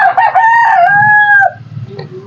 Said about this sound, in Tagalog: maririnig ninyo na mayroong mga manok na tumitilaok